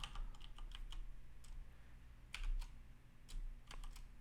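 Quiet, sparse keystrokes on a computer keyboard while writing HTML code, coming as scattered clicks and short bursts with pauses between them, no voices.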